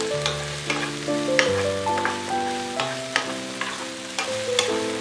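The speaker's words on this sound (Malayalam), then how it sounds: "അതുവരെ ഒന്ന് നമുക്ക് ഇളക്കി കൊടുക്കാം." Sliced plantain frying in ghee for a Kerala Malabar snack, stirred in the pan: a steady sizzle with repeated clinks of a spoon against the pan and a faint tonal hum underneath, close and without talk.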